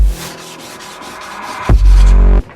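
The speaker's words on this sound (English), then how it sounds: "Now we're just going to sand it down." Sandpaper rubbing over a first coat of paint, a steady broad scratchy rasp in repeated strokes, close and fairly loud, ending in a heavier burst of scrubbing before stopping.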